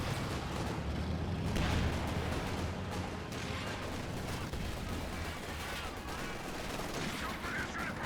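Tank cannon fire and shell impacts in the Company of Heroes 2 video game, with a Firefly shell glancing off a Churchill's armour amid a dense, continuous din of battle gunfire and explosions.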